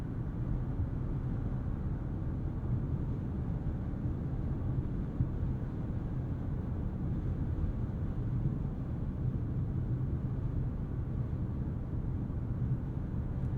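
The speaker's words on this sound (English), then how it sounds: "I do hear some bristling wind noise up by the sunroofs that somewhat obstruct the otherwise very quiet cabin ambiance" Inside a Lexus LS500 cruising at highway speed, a steady low rumble of road and wind noise fills the quiet cabin, constant and unbroken, with faint airy rustle from around the sunroof and no voices.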